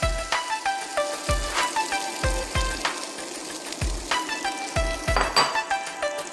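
Potato sauteing in a pan for Bhutanese kewa datshi, a chilli cheese potato stew, heard as a continuous close sizzle with repeated clinks and knocks of a utensil against the pan, without talk.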